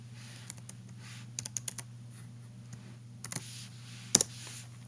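Keys tapped on a calculator keypad while entering a log base 2 expression, a handful of sharp isolated clicks in small clusters over a low steady hum, close and fairly quiet.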